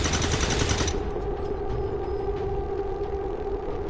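Heavy gunfire from the video game Earth Rising Coalition opens with a loud, dense burst, then drops to a steady rumbling battle din with faint sporadic shots beneath.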